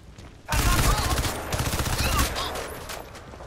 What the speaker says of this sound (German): Einfach mal freie Hand geschossen hier.